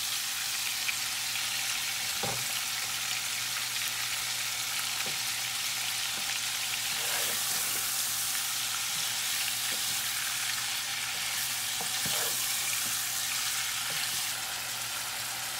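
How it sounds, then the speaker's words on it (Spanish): Fresh shrimp sautéing in a pan before sofrito is added, a steady, even sizzle of frying with occasional light clicks and taps, heard alone without talk. "vamos a ir sofriéndolos hasta que cambien así un poquito de color"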